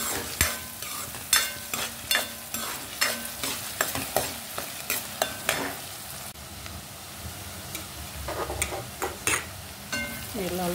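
Onion fries in oil and butter for pav bhaji, a constant sizzle broken by sharp, rapid spatula scrapes and taps against the pan, loud and close, with a quieter stretch of plain frying partway through.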